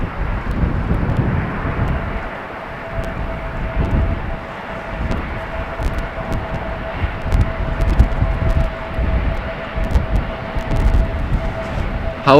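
Aircraft taxiing at Amsterdam Schiphol Airport toward the runway threshold: a steady broadband jet rumble with a thin sustained whine, heard from a distance and mixed with wind buffeting the microphone.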